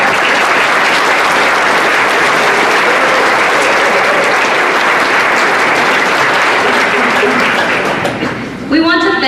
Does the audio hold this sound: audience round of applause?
yes